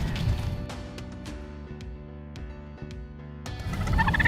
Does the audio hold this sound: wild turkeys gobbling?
yes